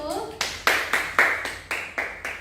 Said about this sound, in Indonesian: Silakan beri aplaus terlebih dahulu untuk kelompok 1